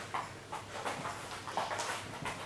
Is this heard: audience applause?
no